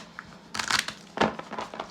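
Tarot cards being shuffled in quick bursts of papery crinkling and riffling, close to the mic, with two main flurries separated by brief pauses and no talk.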